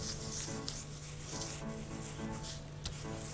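A cloth rag rubs powder into a surface, giving a steady, close, soft scrubbing swish that runs without a break over a low constant hum.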